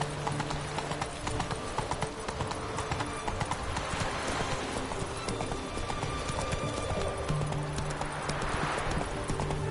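Horse galloping in The Witcher 3, rapid rhythmic hoofbeats pounding steadily across the whole stretch, loud and close, with faint ambient game sound beneath.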